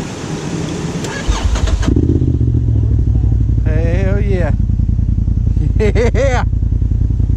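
An off-road vehicle engine cranks and catches after its battery is hooked up, then settles into a loud, steady close idle, with people talking over it.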